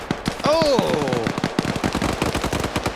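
An RPK machine gun fires in a video game, with rapid, loud, closely spaced bursts rattling across the whole moment while a voice cries out briefly over the early shots.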